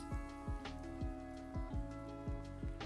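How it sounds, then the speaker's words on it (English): Steady background rain playing during a Dragon Age: The Veilguard stream, a soft even patter with regular ticking, faint and continuous, no talking. "I think I'm gonna turn the rain sound down a little bit."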